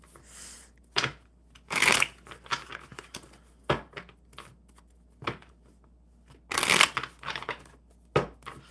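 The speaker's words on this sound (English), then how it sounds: "One more good shuffle for Jen" A deck of playing cards is shuffled in several quick riffles and crisp bursts separated by short pauses, close and clear, with no talk.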